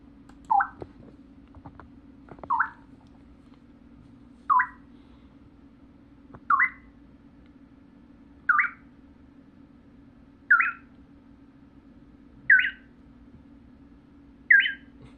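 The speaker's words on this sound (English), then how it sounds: "These are some cutesy Twitch sounds I synthesized." Cutesy synthesized chirp sound effects for Azumanga Daioh fan projects: eight short, bright blips repeat at an even pace about every two seconds, alone over a faint steady hum.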